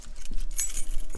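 A bunch of keys is picked up and jangles in quick bright metallic rattles, close and short, with nobody speaking.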